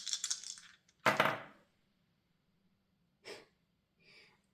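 Dice are shaken and rolled in a few separate bursts of clattering, a sharp loud rattle in the middle and softer rolls after, with quiet gaps between them.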